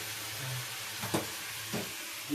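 Sliced radish and potato fry in a pan, giving a faint, steady sizzle with a couple of soft stirring knocks.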